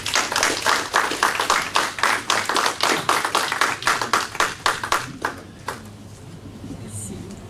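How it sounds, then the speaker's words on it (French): Rhythmic clapping from a small crowd at a talk on land status in French Guiana, quick regular beats that fade out after several seconds, leaving quiet room noise. "Je vous demande de l'applaudir."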